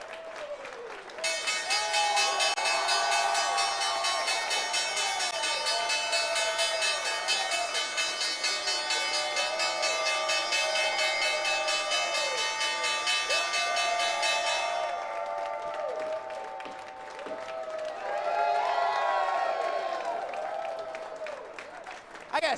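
Closing bell on the New York Stock Exchange trading floor, rung by Global X with a gavel: a loud, continuous electric ringing for about fourteen seconds over applause and crowd cheering, then cheers carry on after the bell stops.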